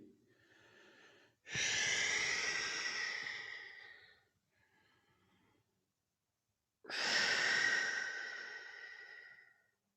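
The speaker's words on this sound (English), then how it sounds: "I apologize if I'm breathing right into the mic." Heavy breathing from a fitness instructor close against a microphone during a stretching class: two long, loud, breathy exhalations several seconds apart, with faint softer breaths in between.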